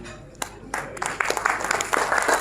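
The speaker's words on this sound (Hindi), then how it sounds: "तालियां, please." Applause breaks out at an education conference honouring children, starting with a few scattered claps and building into denser clapping from the crowd, with some voices mixed in.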